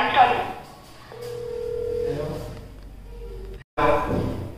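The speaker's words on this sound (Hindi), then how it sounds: "तो अब फ़ोन कर रहे हैं।" A telephone being dialled indoors to call a friend, a steady tone and a short run of dialling beeps against a quiet room, cut off by a brief dropout, with voices talking around it.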